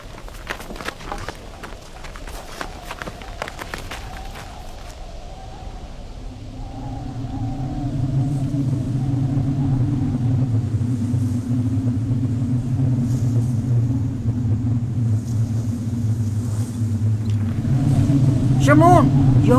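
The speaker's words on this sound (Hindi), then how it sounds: "तूफान आ रहा है, चलो जल्दी करो।" A rising storm rumbles in as a deep, swelling roar that builds steadily louder, with earlier clattering and scattered knocks and shouts over it.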